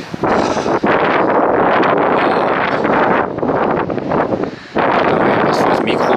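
Strong wind buffets the microphone at a sandstone mountain lookout in the Elbe Sandstone Mountains of Saxon Switzerland, a loud continuous roar and rumble with gusts rising and dipping throughout.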